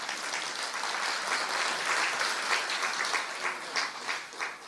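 A seated audience at a Pandav Bhavan Bhatti class claps together in a steady, dense wave of applause that swells and thins slightly over several seconds.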